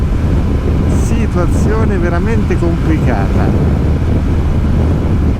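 Very strong wind roaring past a motorcycle on a road ride toward Ushuaia near Puerto San Julian in Argentina, a loud, constant buffeting rush filling the whole clip while a rider talks over it.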